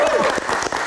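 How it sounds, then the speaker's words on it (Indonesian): A studio audience claps in a dense, steady burst of applause from a live show, with a voice talking over the clapping. "Tepuk tangan sekali lagi untuk Bung Rizky Gerung."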